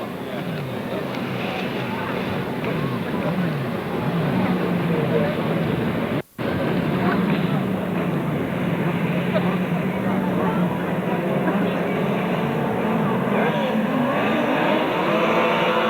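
Grasstrack sidecar racing outfits roar off the start line and down the first straight at a 1995 championship meeting, a loud continuous engine drone with shifting pitch and a brief dropout partway through.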